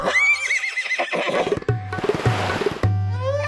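A horse neighs loudly and close in a long whinnying call, followed by shorter snorting bursts and a final rising whinny.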